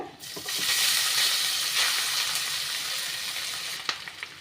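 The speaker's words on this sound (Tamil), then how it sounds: "லோ ஃப்ளேமில் வச்சுக்கோங்க ஜீரகம் கருகக்கூடாது அது வந்து நல்லா பொரிஞ்சு வரணும்" Cumin spluttering in hot oil over a low flame as rice goes into the pan, a steady close sizzle with scattered soft pops and a light stirring scrape near the end.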